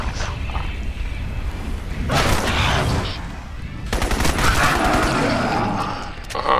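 Rapid automatic gunfire in the game Crysis comes in two loud, dense bursts separated by a brief lull, as an enemy is shot.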